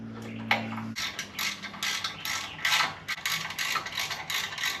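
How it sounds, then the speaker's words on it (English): A hand ratchet clicks in rapid bursts as bolts are run into brake parts on a 1978 K5, with short pauses between the bursts and a brief hum at the start, close and fairly quiet. "So slide these in place and run our bolts in."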